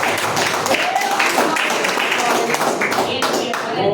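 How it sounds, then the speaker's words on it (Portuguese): A church congregation applauding together, a dense steady wash of clapping throughout with voices mixed in. "Vamos receber o pastor, aplaudindo o Senhor."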